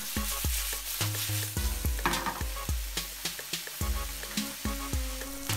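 Sliced zucchini tossed in a hot pan with olive oil, sizzling steadily while a utensil scrapes and clacks against the pan in an irregular rhythm, close and fairly loud, with no talking.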